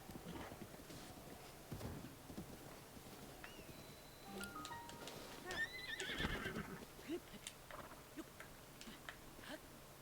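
A horse in Breath of the Wild neighing with a rising whinny amid clip-clopping hooves, set against soft ambient game sounds at low volume.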